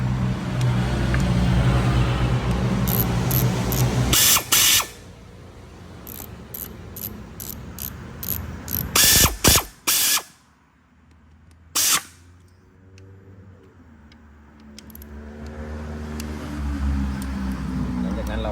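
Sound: ratchet wrench loosening clutch fork spring bolt on Ford Focus mk3

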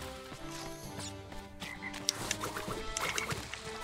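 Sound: frog croaking in Crash Bandicoot 3: Warped video game

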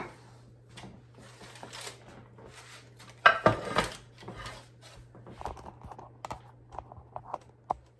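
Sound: handling a 13x9 baking pan

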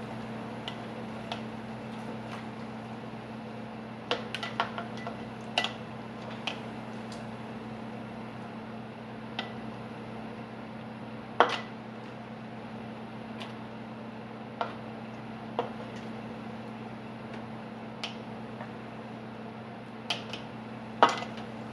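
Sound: pulling simmered solids out of pork broth into jars

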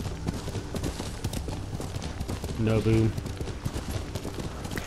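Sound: horse hooves clip-clopping in Ghost of Tsushima video game

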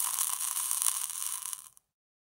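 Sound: flame extinguishing in a glass of water

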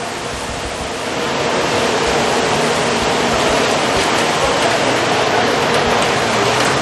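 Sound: rain falling at night in Bangkok

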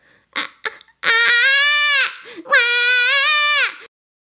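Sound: voice imitating a crying baby

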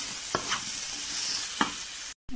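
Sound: stirring tapioca with green chillies in a pan

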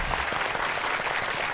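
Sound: applause

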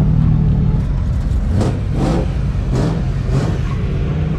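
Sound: rallycross cars revving before practice

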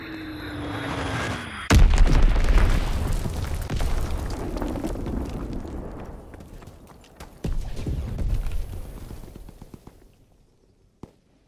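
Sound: bomb explosions in a video game

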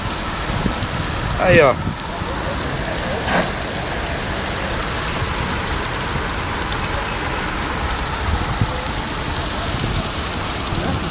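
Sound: heavy rain

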